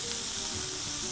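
Butter sizzles in a frying pan alongside escalopes, a steady, close broadband hiss held evenly through a short moment with no voices.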